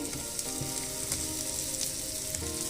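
Stuffed tindi (ivy gourd) fries in roasted masala, giving a steady sizzle and crackle with occasional stirring noises, close and unbroken.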